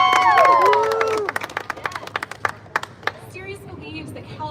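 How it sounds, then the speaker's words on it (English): A crowd at an outdoor climate accountability rally in California cheers and whistles at first, then breaks into scattered, sharp hand clapping that thins out over several seconds. "Give them another round of applause."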